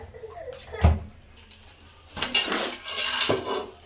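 Pots and utensils clatter while freshly cooked aloo gosht is dished out: a sharp metallic clank, then a longer run of scraping and clinking from cookware and a serving spoon, close by and with no talk.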